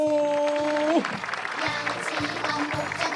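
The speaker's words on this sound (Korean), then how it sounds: "박수 보내주세요" A church congregation breaks into broad, sustained applause for a deaconess at a Christmas service, following a brief sung or spoken tone; the clapping fills the room steadily to the end.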